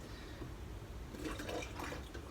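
Liquid poured out of a measuring jug while baking in a home kitchen, a soft trickling splash rising briefly over quiet room noise.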